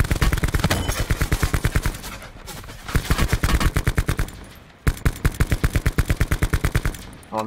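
Loud, rhythmic automatic gunfire from a shooter video game, with steady rapid bursts of shots repeating close up, separated by short pauses.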